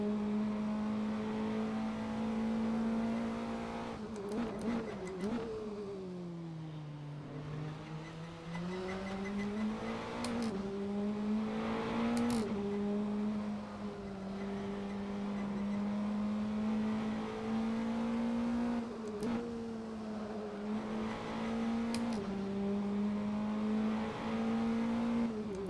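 Praga R1 race car engine in Assetto Corsa at Laguna Seca, a loud steady high-pitched drone that dips as it shifts and then climbs again under hard acceleration, with brief clicks between gears, close and alone.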